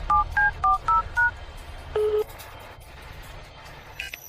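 A telephone number being dialed on a keypad: about six quick, evenly spaced dual-tone beeps, then a longer tone after a pause, loud and close with no talk.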